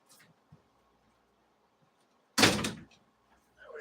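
A door into a home studio gives one loud, close thump or slam partway through, after near silence with a few faint taps, and a softer noise follows shortly after.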